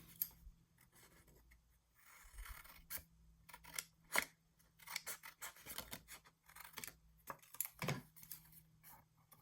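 Scissors trim paper for a junk journal or flip book, giving a run of crisp snips and rustles at an irregular pace. The cuts are close and fairly quiet, with no talk.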